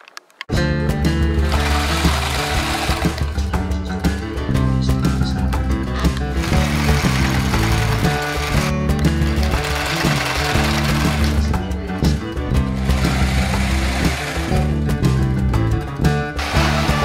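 Sewing machine stitching sailboat cover panels, a loud, close, continuous mechanical hum and rapid needle chatter running almost without pause and surging in intensity.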